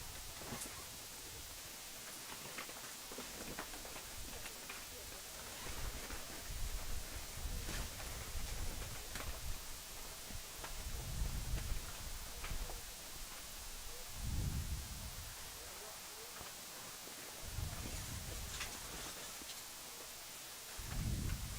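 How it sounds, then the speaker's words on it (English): Steady rain hisses over an outdoor sports ground while several deep, distant thunder rumbles roll through at intervals, with no talk. "So the rain is with us again."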